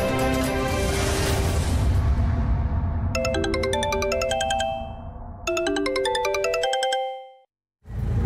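A phone ringtone plays a bright, chiming melody in two repeated bursts over a low background hum, then cuts off abruptly.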